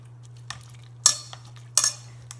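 A spoon mashes food in a bowl during meal prep. A few sharp scraping and clinking strokes stand out over a low steady hum, with quiet stirring between them and no voices.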